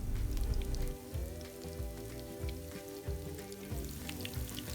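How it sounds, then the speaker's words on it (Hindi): Peshawari chapli kebabs dropped into hot oil on high heat, a loud, steady, crackling sizzle that fills the whole stretch, close up, with no voices. "तेल को हमने अच्छे से गर्म कर लिया है। कबाब को हम डाल देते हैं।"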